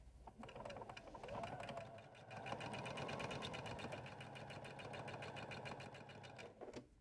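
A sewing machine runs steadily, stitching pillow pieces for a Nelson pillow accessory, with a dense rapid mechanical patter that stays loud and close for several seconds before easing off near the end.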